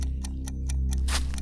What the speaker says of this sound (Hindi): बस दूर कहीं से टिक टिक टिक की आवाज आ रही है।